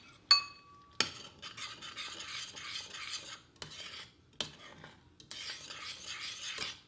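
Chips being plated from a pan at home, metal utensil scraping and clinking against cookware in short bursts with sharp clacks between, close and fairly quiet.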